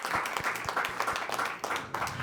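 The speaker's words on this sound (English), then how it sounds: "Round of applause." A fairly faint round of applause at a product launch competition, scattered claps with some louder individual hits, short and without speech.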